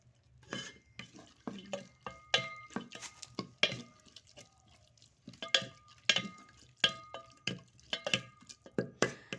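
Chopped tomatoes stirred in a pan over a wood-fired stove: repeated sharp scraping and clinking strokes of a utensil against the pan at a quick, uneven rhythm, close and clear, with a faint sizzle underneath.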